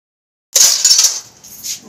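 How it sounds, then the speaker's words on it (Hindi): Dishes and cutlery being washed, with sharp metallic clinks and clatter of utensils and plates that start abruptly and continue in a quick close jumble, no talk. "और बर्तन वगैरह भी मैं धो लेने।"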